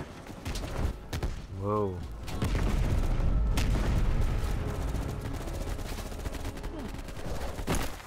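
Heavy gunfire rattles through a firefight against a VC attack in Call of Duty Black Ops Cold War, dense overlapping shots and rumbling booms filling the scene, with a brief spoken exclamation early on.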